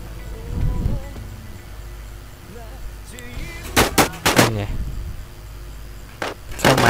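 Gunfire in the WarZ video game, several sharp shots in quick bursts toward the end, with someone talking underneath at the start.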